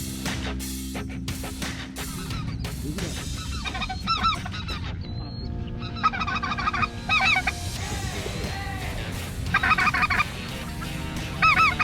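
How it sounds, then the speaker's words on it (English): Wild bird calls on a bayou hunt, repeated honking two-note calls coming in bursts against steady background noise, fairly loud and with no talk. "That bird will say two notes."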